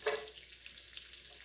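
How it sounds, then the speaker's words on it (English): Butter bubbling and sizzling in a cooking pot, a faint, steady crackling sizzle throughout after a brief clatter at the start. "the butter is getting all the water out of the butter when it bubbles like that."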